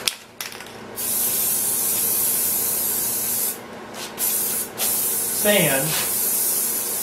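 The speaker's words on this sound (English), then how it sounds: "we're just going to go over this with one more clear coat" A spray can hisses clear coat sealer onto a habitat rock in long continuous bursts with brief gaps, close and fairly loud, while someone speaks briefly.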